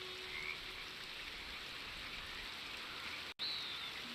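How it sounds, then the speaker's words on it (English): Rain falls steadily in Red Dead Redemption 2, a soft, constant hiss with frogs croaking faintly in the background and a brief drop in sound near the end. "Listen to that rain."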